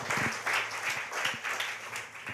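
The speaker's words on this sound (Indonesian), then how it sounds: "Tepuk tangan untuk kebenaran ini Bapak Ibu." Congregation applause during a Sunday worship service at a Bandung church, a moderate crowd clapping in rough pulsing waves, fairly close and steady for a couple of seconds with no talk over it.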